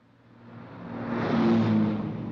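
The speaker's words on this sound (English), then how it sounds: "Do my ears deceive me, or can I hear that dreaded sound of supercar?" Supercar engine approaching, a rising engine roar and whoosh that swells steadily over a couple of seconds as it draws nearer and grows loud.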